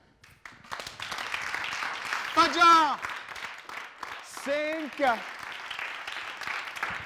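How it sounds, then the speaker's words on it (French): A studio audience on a Burkina Faso television show claps for a woman guest as she arrives, steady applause running beneath a host's voice calling out and talking over it. "Merci de l'applaudir."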